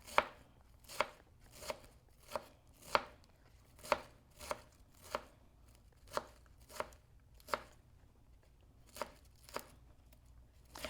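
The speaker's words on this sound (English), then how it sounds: "And then we're just going to chop fine." A knife chops cabbage finely for an avocado carrot cabbage coleslaw, making about a dozen crisp, evenly spaced cuts on a board, close and clear with no talk.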